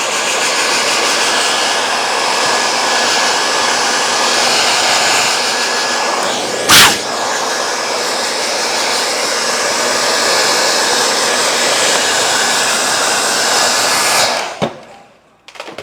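An air blower runs loud and steady, blowing dust out of a PC as a continuous high whoosh with one brief change midway, then cuts off near the end.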